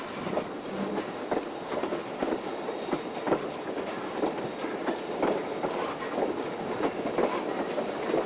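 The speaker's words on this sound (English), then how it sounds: "This is the last train." A Strasburg Rail Road passenger train rolls along the tracks, heard from on board as a steady clickety-clack of wheels over rail joints in a regular rhythm with a continuous rumble beneath.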